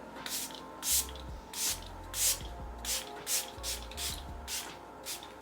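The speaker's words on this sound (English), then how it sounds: "Let's go ahead and spray my face." Short hissing spray bursts repeat about every half second, close and fairly soft, with faint handling noise between them and no talking.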